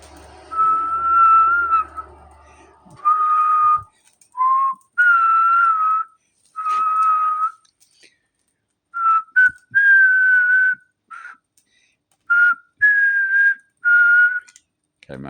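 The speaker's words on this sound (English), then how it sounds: "that's one of the tunes I usually whistle when I'm walking" A person whistles a classic opera tune alone and close by, in clear sustained phrases broken by short pauses, with a bright steady tone and no talking.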